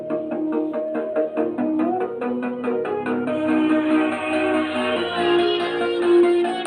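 Loud DJ dance music from a sound system, a melodic intro with rapid stepped notes and sustained tones, steady and full without any talking.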